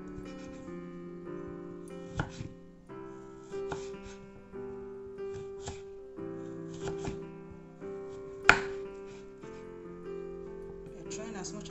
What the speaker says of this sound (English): we are also dicing the carrots